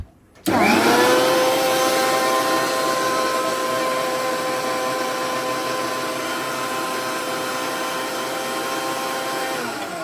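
A mixer grinder whirs loudly and steadily after a brief quiet start, its high motor whine holding for the rest of the clip with no talking.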